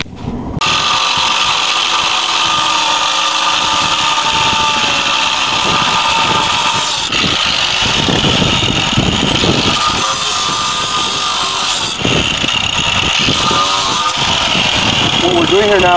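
An off-road Jeep engine runs after a drive shaft repair, a continuous loud idle and revving with shifts in pitch around seven and twelve seconds. Someone speaks over it at moments.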